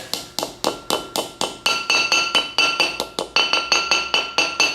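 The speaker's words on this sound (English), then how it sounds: "Installation is done simply with a hammer, just by tapping around the outside" A hammer taps a bearing race into a car brake rotor in a quick, steady series of about twenty sharp strikes, each leaving a bright ringing clink, close and loud.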